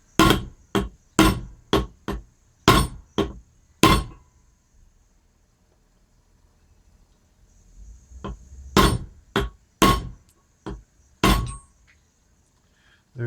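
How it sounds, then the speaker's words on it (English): Sharp metallic hammer strikes on a steering shaft in an 82-92 F-body car, two bursts, a quick series of evenly spaced blows, a pause, then several more, ringing and close. "I'll resort to hammering on it."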